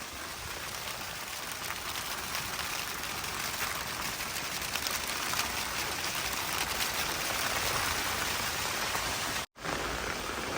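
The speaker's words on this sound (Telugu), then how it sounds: "వాన పడుతుంటే ఈ కవర్ మీద నీళ్ళు పడినప్పుడు సౌండ్ చూడండి" Steady rain drums on a plastic cover at a farm in early-morning rain, a dense, even hiss of drops heard close and alone throughout, with a brief dropout near the end.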